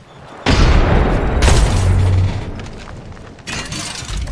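A frag grenade and an arc star go off in Apex Legends, a loud booming blast followed by a second heavy burst and rumbling debris, with another explosion near the end.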